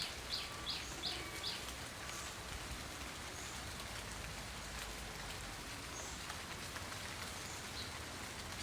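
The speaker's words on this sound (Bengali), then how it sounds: "বৃষ্টি চলে আসছে।" Steady rain falls outdoors near mango trees, a soft, even patter that continues throughout, with a few faint bird chirps early on.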